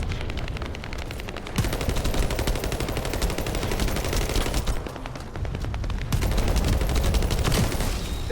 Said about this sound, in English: There's the explosion from the Thunder Cage.